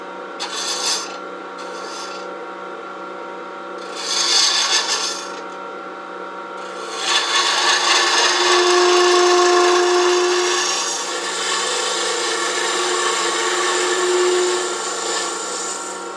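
A wood lathe spins a boxwood box at around 1500 rpm while a tool nips off the corner, giving a loud, steady rasping scrape with brief bursts early on and a sustained cutting roar through the latter half.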